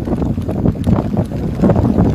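Strong typhoon wind from Typhoon Enteng roars across the Navotas shoreline where ships have drifted aground, a loud, buffeting rush that batters the microphone without a break.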